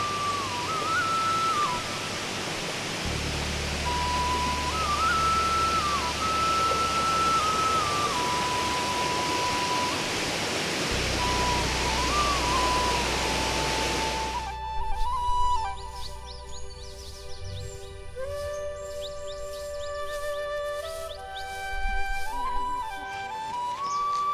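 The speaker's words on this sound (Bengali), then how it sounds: "এই ট্রেকে প্রথম নদী বলুন বা ঝর্ণা তার দেখা মিলল এই যে" A stream or small waterfall on the Parasnath Hill trek in Jharkhand, a steady broadband rush of flowing water, fairly loud, with high whistling tones over it, before a quieter stretch of thin outdoor ambience.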